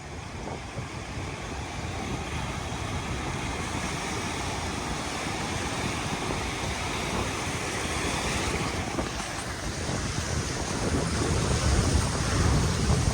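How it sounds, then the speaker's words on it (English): Ocean surf washing onto a beach under strong wind, a constant loud roar of waves and gusts buffeting the microphone, swelling slightly toward the end, with no voices. "Toes in the sand, water on the feet."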